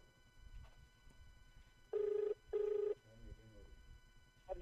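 A telephone ringback tone plays on a call to a hospital official: two near-identical steady tone bursts in a row, clearly louder than the quiet background hum.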